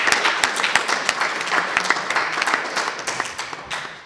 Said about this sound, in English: So, please, give a well round of applause for the delegate of the United Kingdom for getting best delegate.